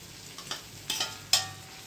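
Fried potatoes tipped back into a pan of hot oil on low heat: three distinct scraping clatters of stirring over a soft, steady sizzle, close by with no talk.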